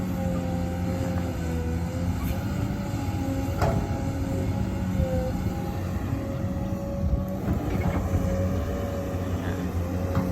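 An excavator digging a pond in rural Buriram, Thailand, with its boom stretched to full reach; a steady, loud diesel engine drone runs throughout, with a few clanks and scrapes from the bucket and no speech.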